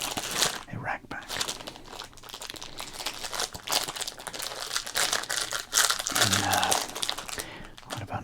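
Crinkly plastic wrapper of a 1991 Bowman football card rack pack being handled and torn open up close, with steady rustling and crunching throughout and a soft voice speaking quietly over it.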